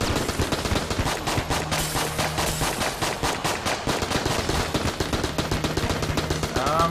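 Constant rapid gunfire in the video game Enter the Gungeon, dense overlapping shots rattling in a fast, continuous stream without a break, with no voice over it.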